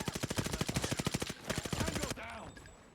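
Rapid automatic gunfire from Call of Duty Mobile, a dense run of evenly spaced loud shots for over two seconds, then a fading tail with a brief voice.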